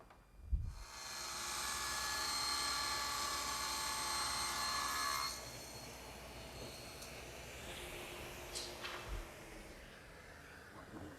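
A power saw trims a board for a car audio subwoofer box in a workshop, one loud sustained cut of about five seconds, then a quieter tail with a few light knocks and handling clatter.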